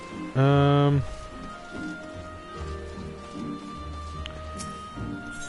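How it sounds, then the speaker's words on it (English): Steady rain falling in the video game Final Fantasy XIV, a soft continuous patter under game music, opening with a brief loud tonal chime and a few faint sharper blips later. "quite rainy around here, isn't it?"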